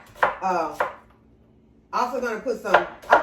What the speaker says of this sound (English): I'm going to be chopping a whole onion and put in here.